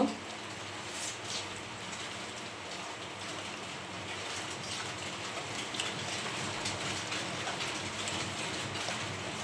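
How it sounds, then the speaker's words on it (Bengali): Steady, dense rain patters continuously, a broad hiss of falling water that stays even throughout. "অনেক জোরে বৃষ্টি হচ্ছে"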